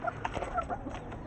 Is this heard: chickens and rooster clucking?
yes